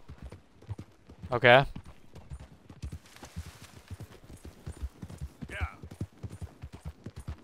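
Horse hooves clip-clop in Red Dead Redemption 2, a steady run of distinct light footfalls under quiet speech, with a short louder vocal outburst early on.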